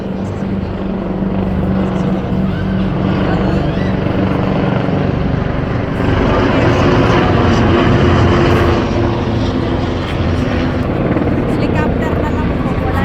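A helicopter flies over a Paris air show on France's National Day, a loud continuous rotor and engine roar lasting throughout with steady intensity, crowd chatter mixed faintly underneath.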